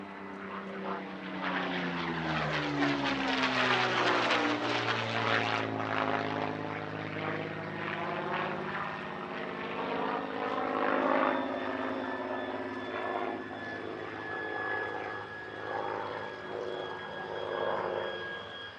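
A Packard Merlin-engined P-40F Warhawk warplane roars past at an airshow flying display, its engine drone rising and sweeping in pitch as it passes, then droning on steadily at a distance.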